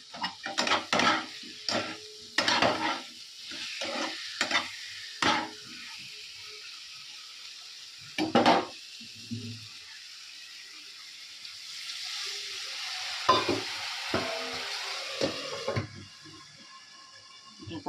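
Spices frying in a covered pan with a little water added, heard as intermittent stirring and clattering of utensil against pot, followed by a softer, steady sizzle for several seconds.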